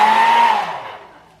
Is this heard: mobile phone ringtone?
no